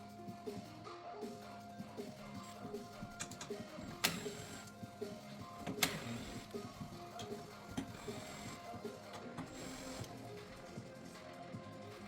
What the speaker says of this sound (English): Remove the 4 bolts from rear.